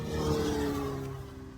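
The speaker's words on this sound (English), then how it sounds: "Motorbikes." Motorbike engines roar steadily nearby, a droning, revving hum that slowly fades as they pass.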